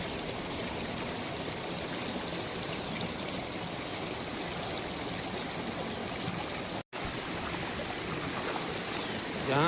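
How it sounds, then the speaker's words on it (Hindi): A river rushes steadily beside a grassy mountain path, a broad continuous wash of flowing water heard up close with no talk, briefly cut out for a moment near the end. "नदी बह रही है"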